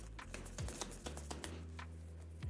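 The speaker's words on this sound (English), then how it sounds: "And give a nice little shuffle here as well." A deck of game cards for a zombie board game being shuffled by hand at close range, several quick riffling bursts over a couple of seconds with no talking.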